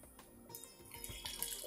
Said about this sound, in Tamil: கொஞ்சமாக ஒரு 1/2 கப்பு தண்ணி விடுறேன்.